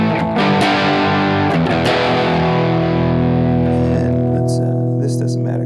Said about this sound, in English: the drive or like the distortion you're hearing is from the amp